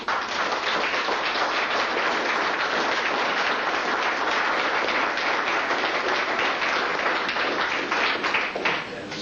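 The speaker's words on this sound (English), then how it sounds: "there are 3 people that I think each deserve an applause" Sustained applause from a family reunion audience fills the room, a dense, even wash of many hands clapping that holds steady for several seconds, with faint voices mixed in beneath.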